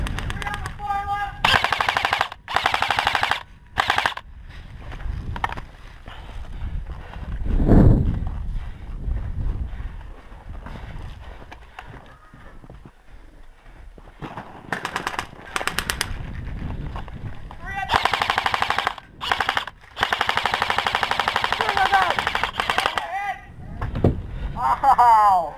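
Airsoft guns, including M16, MP5, G36 and M4 style replicas, fire in rapid bursts and sharp single shots during an outdoor CQB game, loud and near, broken by pauses, with players calling to each other between volleys.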